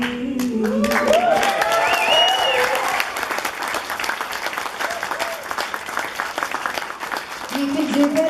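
Wedding guests give a warm, sustained round of applause for a singer who has just performed a song, dense clapping filling the room for several seconds, with a few voices rising over it near the start and end.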